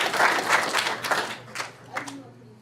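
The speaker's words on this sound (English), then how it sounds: "Give them a round of applause." Hackathon opening-ceremony audience at KnightHacks claps briefly, a short burst of moderate applause from a room of people that tapers off within a couple of seconds, with a voice over it.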